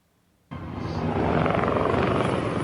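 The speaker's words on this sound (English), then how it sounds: "2 Navy helicopters from the naval base in Lumut in Malaysia crashed into each other" Navy helicopters from a naval base in Lumut, Malaysia roar in abruptly after a near-silent start, a loud, dense rotor and engine wash that holds steady and close with no talk.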